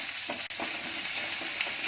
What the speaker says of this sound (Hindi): प्याज को भी 1-2 मिनट तक भूनेंगे